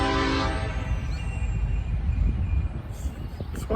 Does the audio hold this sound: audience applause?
no